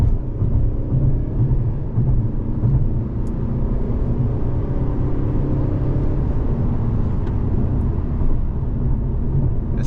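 A Mercedes C-Class drives along a road in Spain, heard from inside as a steady low engine and road rumble with faint clicks, no talking.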